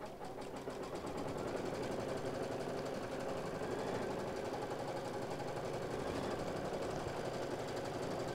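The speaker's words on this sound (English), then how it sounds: "it's going to first do the placement line. So we're just going to start to sew." Embroidery sewing machine stitching a placement line for a Christmas ornament, a steady fast mechanical whirr and rattle that runs continuously with no talking.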